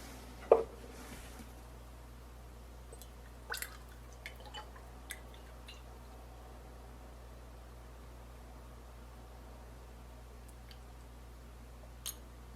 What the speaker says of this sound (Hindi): हल्का सा इसको दबाएं, इससे घी जो है पूरी तरह से नीचे आ जाएगा।